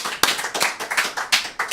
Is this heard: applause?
yes